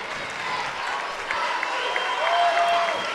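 Applause from a crowd of Cardinal fans at a North Clay high school championship game in a gym, a steady broad wash of clapping and crowd noise that swells slightly toward the end, with a faint whistle-like tone near the close.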